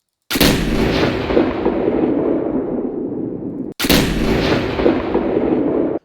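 Two huge, booming plasma cannon blasts in MechWarrior 4, each followed by a long rumbling decay, the second arriving after a brief gap.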